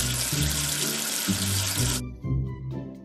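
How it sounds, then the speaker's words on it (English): Cartoon tap water runs steadily into a sink to rinse soap away, a loud continuous splashing stream for about two seconds that cuts off, then briefly flows again, with no talking. "Wash away the soap with water."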